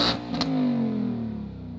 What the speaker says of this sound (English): Now that she's got a little heat in the engine, you want to go ahead and rev her up, see how it sounds?